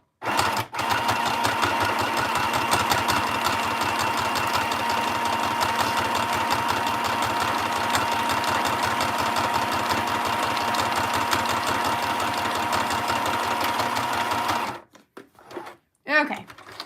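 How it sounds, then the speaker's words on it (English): A sewing machine stitches through a paper craft tag in a fast, steady run of mechanical clatter for about fifteen seconds, then stops. A few brief sounds follow. "first I'm gonna go ahead and stitch through the words, the title on repeat."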